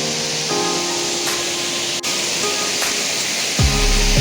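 Kothapalli waterfall near a bridge, heard as a loud, steady rushing roar of falling water, with faint tonal hums rising toward the end.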